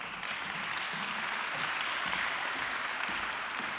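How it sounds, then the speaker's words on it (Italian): An audience at a youth business assembly in Vicenza applauds, dense sustained clapping from many hands that holds steady and moderately loud throughout. "Un applauso"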